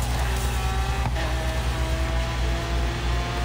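Koenigsegg car engine in Forza Horizon 3 in Australia, a steady low drone with a sustained higher whine, holding at an even pitch and loud throughout, with a brief mechanical click partway and no talk.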